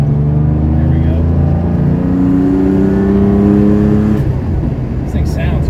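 A 1970 Porsche 911T engine revs while driving, its loud droning note climbing in pitch through a gear, then dropping back under road noise; heard from inside the car.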